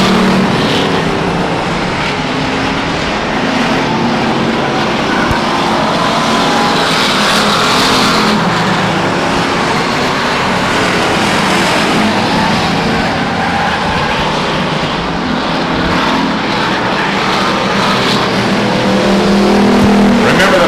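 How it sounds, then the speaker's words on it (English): Race cars at Stockton 99 Speedway during a 2003 race night, a continuous loud roar of engines lapping the oval with a public-address announcer talking over it. "What's wrong with the 78 car? Johnny Rose hangs the left down into the 25 car"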